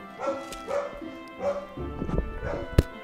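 Dog barking repeatedly in the background, a steady series of deep woofs at a moderate distance with some clatter, heard behind a gaming livestream.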